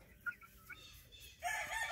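Gray game chickens cluck out on a grassy yard, a few soft short calls followed by a louder, brighter stretch of clucking near the end.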